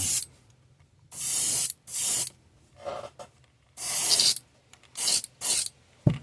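Airbrush spraying Createx Opaque White base coat paint onto a custom S crank, sharp hissing bursts in short on-off pulses separated by near silence, close and clear.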